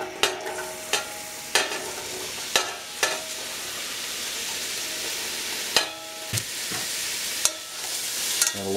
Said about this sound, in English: I'm going to go ahead and add the onion, celery, and the green peppers, and I'm going to saute those until they're translucent.